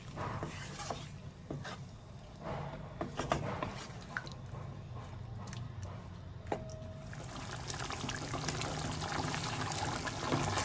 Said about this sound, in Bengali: এবার আমি এর মধ্যে জল দিয়ে কিছুক্ষণের জন্য সিদ্ধ হতে দেবো।